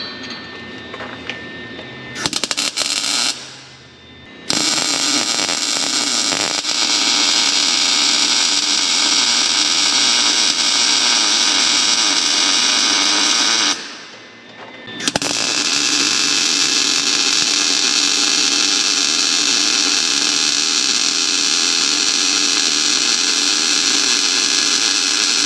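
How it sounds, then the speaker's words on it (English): Exhaust hanger brackets are welded on a 1930 Dodge pickup with a Cummins engine, a loud steady hiss of welding that runs for long stretches and stops twice for brief pauses. "Okay, just cut a couple of these down, weld them right here."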